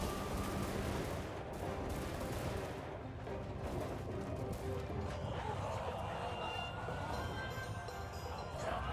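Gun units firing in a samurai-era battle in the video game Shokuho: dense, continuous crackling volleys blend with a roaring battle din, steady and loud throughout.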